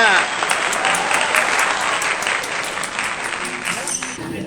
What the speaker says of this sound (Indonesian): Tepuk tangan untuk juara kita.